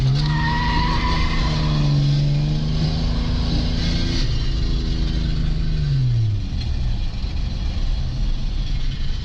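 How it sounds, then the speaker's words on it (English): Tires squeal loudly in a long, wavering skid as a Toyota Cressida MX73 drifts on a track, the pitch sliding and bending before easing off near the end. "Tom ripped off his own tyre doing a skid."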